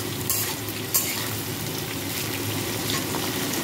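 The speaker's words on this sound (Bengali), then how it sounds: "কুমড়োটাও এর সাথে সামান্য ভেজে দেব।" Pumpkin pieces fry in hot oil in a pan alongside other already frying vegetables, a steady close sizzle with faint crackle and a couple of brief clinks.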